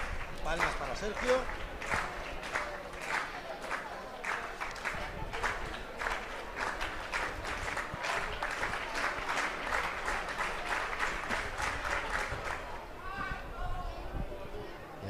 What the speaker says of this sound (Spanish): Palmas para Sergio.